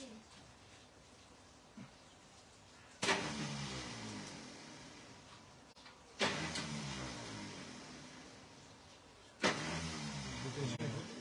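A VAZ car's engine, newly fitted with an F16 carburetor, roars up in three loud separate bursts, each settling into a fading rumble before the next.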